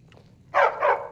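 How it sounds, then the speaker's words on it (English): A dog in the video game Skyrim gives two short, close barks in quick succession after a faint, quiet lead-in. "And it barks."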